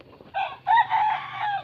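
A rooster crows once, close and clear, with a short opening note followed by a longer drawn-out call, with no other sounds around it.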